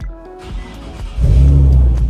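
A crashed Nissan 370Z engine cranks and catches, then roars into a loud, steady rev close by with no voices over it.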